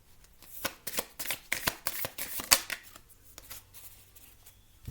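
Tarot cards being shuffled for a reading, a close run of quick riffling bursts and soft card flicks that settle into quiet near the end, with no one talking.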